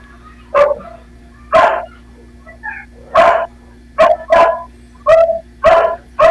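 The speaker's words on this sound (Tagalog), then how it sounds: "Maraming aso doon sa baba." Dogs barking downstairs in a Philippine neighbourhood, a run of loud, sharp barks and yips spaced irregularly through the clip, with a faint voice underneath.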